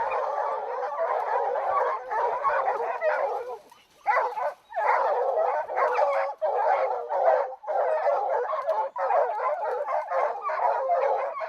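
Hunting dogs in South Africa's Eastern Cape bark at a caracal up a tree: a loud, close, nearly unbroken chorus of overlapping barks and yips with only a few brief pauses.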